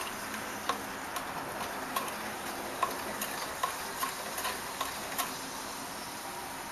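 A solution of cream of tartar and sodium carbonate fizzes quietly, a soft steady hiss broken by small irregular crackling pops, heard close-up with no talking.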